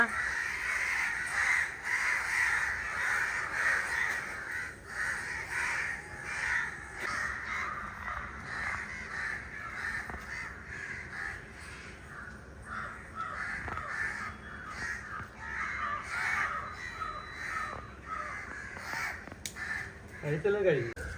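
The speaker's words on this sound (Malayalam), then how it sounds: "അതിനെ കൊണ്ടുപോകാൻ വേണ്ടി തയ്യാറായി നിൽക്കുന്ന കുറേ കാക്കകൾ കണ്ട" Several crows caw repeatedly in a rainy outdoor setting, their harsh calls fairly close and continuing steadily over a constant background hiss of rain.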